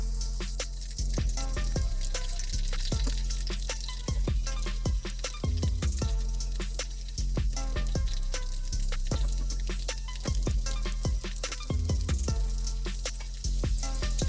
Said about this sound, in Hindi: ऑयल जो है ये गर्म हो गया, इसको आराम से ऑयल में रखेंगे फ्राई होने के लिए।